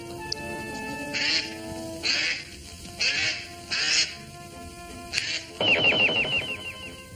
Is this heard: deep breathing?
no